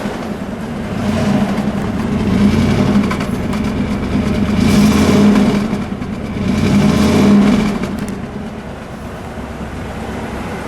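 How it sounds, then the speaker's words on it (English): A smooth car engine revs up in two rising surges and falls back between them, a steady, loud, full roar with no voices. "when you step on it, it has like a luxurious roar."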